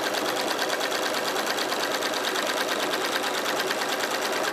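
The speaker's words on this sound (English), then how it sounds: "Stop when you get close to the tool, fold in, pull down, and sew." Close and steady, a sewing machine stitches folded fabric cord for a jelly roll bag, its rapid, even needle chatter running without pause throughout.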